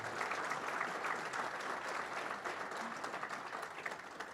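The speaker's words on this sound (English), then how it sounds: "let us hear a big round of applause for our keynote speaker, Lauri Eberhart" An audience at a motorsports business conference applauds a keynote speaker, giving a sustained, even round of clapping from many hands at moderate distance with no voices over it.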